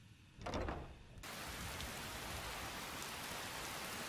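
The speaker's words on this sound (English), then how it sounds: "Oh, lovely rain." Rain in Skyrim sets in suddenly after a brief thump, then continues as a steady, full hiss of falling water with no talk over it.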